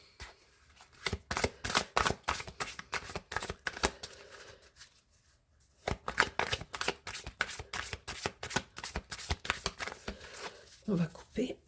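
Oracle cards are shuffled in rapid rhythmic bursts of papery riffling, near and fairly quiet, with a brief pause midway and someone speaking French between.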